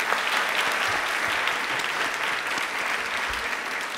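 A studio audience at a televised quiz show claps enthusiastically, a steady, dense burst of many hands lasting several seconds at moderate level, with no voices over it.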